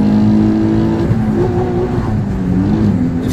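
A Nissan 350Z sports car with a modified exhaust accelerates on the road, a loud, close engine drone rising and shifting in pitch, with a rumbling exhaust note throughout.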